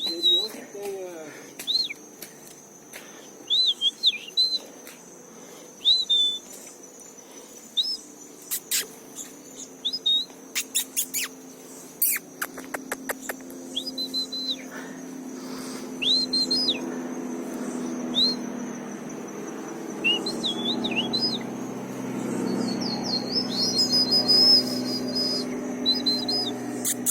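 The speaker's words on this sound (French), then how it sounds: "Petit oiseau qui veille" Small birds chirp on Morro da Urca hillside in Rio de Janeiro, brief high tweets scattered through the clip, fairly distant and light, with a low steady background murmur that swells toward the end.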